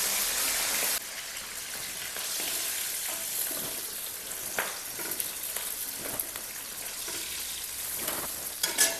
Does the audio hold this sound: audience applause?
no